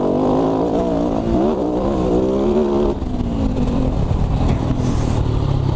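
A KTM 450 Dakar rally motorcycle engine runs loud and close while being ridden, its pitch climbing and shifting steadily throughout with a brief dip near the middle, with no talking.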